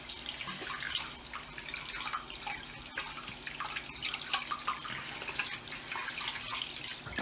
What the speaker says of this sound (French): Alors, je vais me rincer les mains.